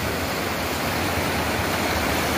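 The Bagsit River at sitio Dampay, Palauig, Zambales rushes strongly, a dense, steady roar of water that holds constant and close throughout with no voices.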